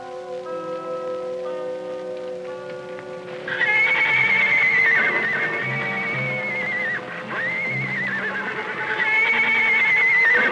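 Horses in a ranch corral neigh and whinny loudly in long repeated calls, following a stretch of steady tonal background, with no talk.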